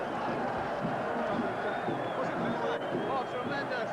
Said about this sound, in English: And they walked into the arena to an almighty roar.